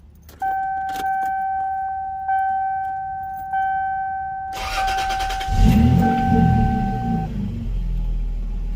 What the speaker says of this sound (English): Car runs absolutely fine.